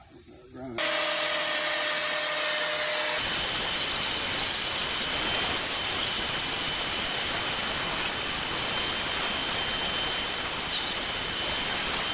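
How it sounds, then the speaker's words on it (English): An old angle grinder cleans grime off a truck's rear axle part, starting with a short whine and then a loud, steady broadband grinding roar that holds evenly to the end. "I got an old grinder out."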